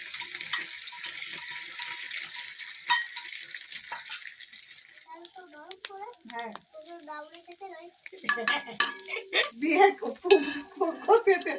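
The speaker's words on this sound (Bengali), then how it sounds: "ডিম টোস্টটা ওকে বানিয়ে দিচ্ছি।" Egg toast cooking in a pan on a gas stove, with soft sizzling and frequent metallic scraping and clinks of a utensil against the pan, growing busier and louder toward the end, while voices talk intermittently.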